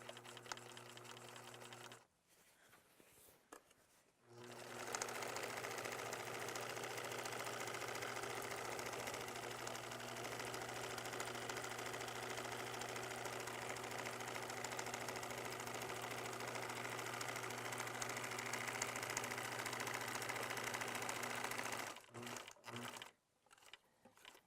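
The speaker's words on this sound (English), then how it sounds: "I'm just going to pivot and sew across the end of the pillowcase." A sewing machine hums in a long, continuous close run while stitching a cotton pillowcase band, preceded by two brief starts and ending with a few short bursts and clicks.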